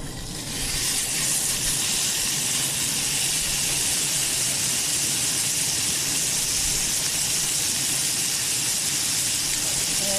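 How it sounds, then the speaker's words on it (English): Steak sizzling loudly in a buttery pan, a dense, steady hiss close up that starts abruptly and holds without break for the whole stretch. "So this time in a buttery pan, you're going to add your steak."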